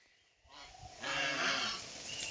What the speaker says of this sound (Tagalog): Yung mga gansa na yan mga idol